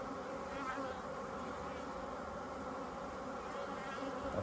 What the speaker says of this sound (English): Plenty of bees on here.